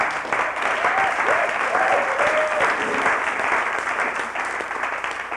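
Steady applause from a crowd, dense clapping throughout with a few brief whistles or cheers rising above it.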